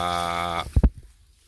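A Javanese goat gives one clear, drawn-out bleat with strong harmonics, followed by two short low thumps and soft rustling, close and alone.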